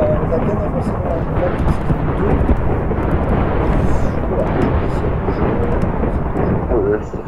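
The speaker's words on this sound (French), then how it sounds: "J'ai le bruit des éclairs après. Vous écoutez." Thunder and lightning in a video game, a loud, continuous rumbling roar with heavy low-end weight that holds at a steady level for several seconds before easing slightly at the end.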